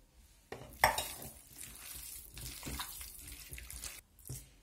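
Tomato stuffing made with pepper is mixed by hand with egg, producing close wet squelching and squishing that runs steadily for several seconds, with a brief clatter near the start and no voices.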